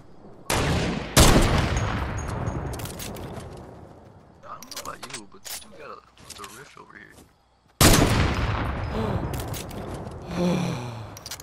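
Gunfire in an online multiplayer shooter, with bursts of sharp shots separated by quieter gaps and a second loud volley later, mixed with players talking.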